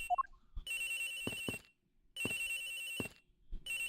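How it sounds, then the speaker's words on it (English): A telephone rings in a video game, Ace Attorney Investigations, while searching an airliner, sounding as two long bursts of electronic ringing separated by a short pause, loud and clear with no talk over it. "The ringing is coming from somewhere around here"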